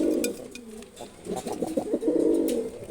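Low, throaty cooing from a pair of khaki pigeons nearby, several overlapping rolling coos in a soft, continuous sequence with no talking.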